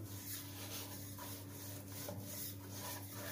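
A rolling pin rubs back and forth over flour-dusted methi paratha dough, giving a soft, steady scraping swish in repeated strokes against a constant low background hum.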